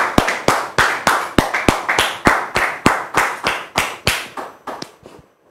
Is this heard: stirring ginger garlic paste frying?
no